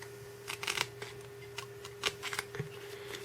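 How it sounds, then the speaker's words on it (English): A petal is cut out while shaping a craft rose, with irregular clusters of crisp snips and rustles over a faint steady hum, close by and without talk. "This one, which is what I should have done before, you cut 1 petal out."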